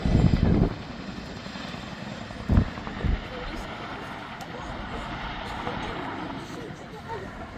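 An RAF Chinook HC.6 twin-rotor helicopter flies an over-the-shoulder display manoeuvre at an air show; a steady rotor and engine roar carries on throughout, with a few short loud thumps near the start and middle.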